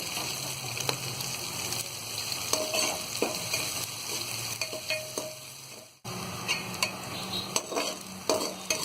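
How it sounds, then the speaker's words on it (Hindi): Green onions fry in a pan with a continuous close sizzle, punctuated by repeated scraping strokes of a spatula stirring them, and a short pause midway before the frying resumes. "अब हम इसमें ये हरी प्याज डाल देंगे। और इसे भी हम थोड़ी देर चलाएंगे।"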